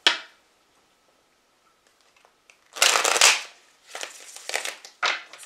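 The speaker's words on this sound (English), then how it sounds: "One more shuffle." Bursts of riffling card noise, a long crisp shuffle followed by a few shorter ones, close and fairly loud after a quiet start.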